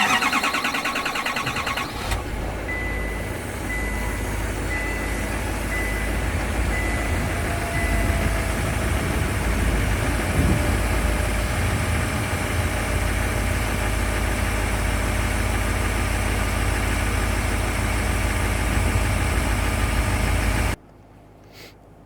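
L5P Duramax diesel pickup engine cranking briefly after a fuel filter change, then settling into a steady, loud, close rumbling idle that runs until it cuts off abruptly near the end.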